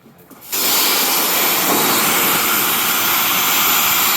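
A pressure washer's fan jet sprays wooden decking, a loud, steady broadband hiss that starts abruptly after a brief quiet moment and holds without a break.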